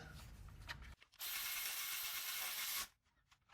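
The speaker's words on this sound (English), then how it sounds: "we'll go ahead and tighten this bolt last" A ratchet works on a bolt of a car oil pan during an Acura Type S oil pan gasket replacement, giving a close, steady burst of mechanical clicking for about two seconds between quieter handling noises.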